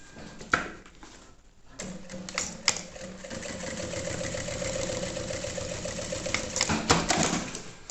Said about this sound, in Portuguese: A gente passa uma costurinha só pra fixar.